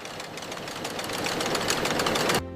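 A textile spinning machine turning prepared banana-plant fibers into continuous yarn runs with a steady, dense mechanical whir and rapid rhythmic clatter, close and loud, cutting off abruptly at the end.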